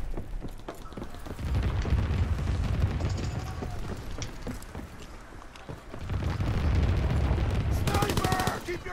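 Anti-aircraft battery firing in Call of Duty: WWII multiplayer, heavy booming bursts of gunfire rolling continuously for several seconds, loud and close with dense rumbling low end, with a brief pause midway before the barrage resumes.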